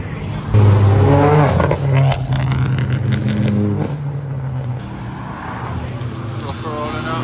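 Cars pull away from a Japanese car meet in Reading, a Mark II among them. A loud, close engine rev rises and falls before fading into further engine rumble from departing cars.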